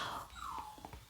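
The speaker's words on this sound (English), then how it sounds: "Sorry about my dogs. Somebody must have walked in and they're going to start barking maybe" A dog gives a brief, faint whimper in an indoor room, a thin high whine lasting about a second with small huffs after it.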